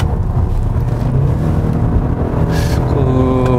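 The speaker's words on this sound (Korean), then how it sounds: "그 rpm이 올라가면서 좀 소리가 커지는, 특히 그 저속에서는 굉장히 조용한데 고속으로 올라가면은 소리가 많이 커지는 부분이 있습니다." Kia K7 with a 2.5 GDI four-cylinder engine climbing to high rpm, a loud sustained drone that rises in pitch near the end, heard from inside the car.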